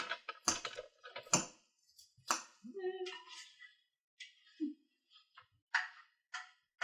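Knife chopping raw cauliflower into small pieces for chicken tikka masala, quiet, close, irregular sharp taps and thuds on a cutting board with short pauses between cuts.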